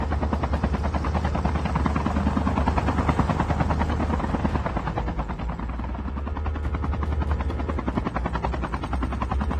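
A helicopter in Call of Duty Mobile thunders close and loud, its rotor beating in a fast, steady rhythm throughout, with no voices over it.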